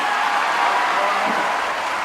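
A crowd at a women's chinlone championship match in Myanmar applauds the announced winner, the Myanmar team, with dense steady clapping filling the whole moment.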